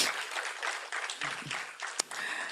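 Steady, dense applause fills a hall at a women's investment summit, with many hands clapping together at fairly close range for a couple of seconds.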